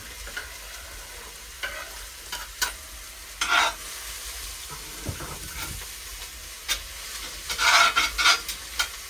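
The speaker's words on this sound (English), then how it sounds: "I'll give that a little stir up." Carrots being stirred in a pot on a woodstove, a series of scraping stirs with soft sizzling between them, close and fairly quiet, ending in a louder burst of stirring.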